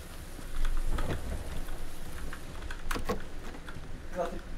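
Rain falls steadily in a video game with a low rumble of thunder beneath, and sharper splashy crackles break through now and then over the hiss.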